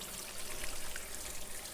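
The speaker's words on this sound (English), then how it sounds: "I, of course, am going to rinse my hands real quick." Hands are rinsed under running water from a tap, a close, steady splashing hiss that lasts the whole moment without any speech.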